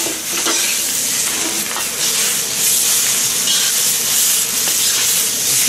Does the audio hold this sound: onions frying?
yes